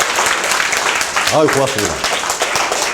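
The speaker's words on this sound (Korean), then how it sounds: "박수 좀 부탁드리겠습니다" Audience applause fills a lecture hall during an insurance sales seminar, a dense steady patter of many hands lasting throughout, with someone speaking briefly over it partway through.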